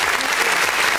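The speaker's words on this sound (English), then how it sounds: "I need to give you a round of applause, my guy." A short, loud burst of dense applause during a radio interview show, many hands clapping at once in a steady wash with no voices over it.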